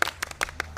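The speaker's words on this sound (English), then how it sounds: "Give a big applause." A small group of students in a classroom discussion claps briefly, a few sparse, uneven hand claps over less than a second, close and fairly soft.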